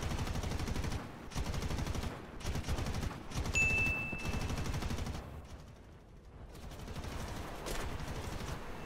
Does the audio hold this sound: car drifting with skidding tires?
no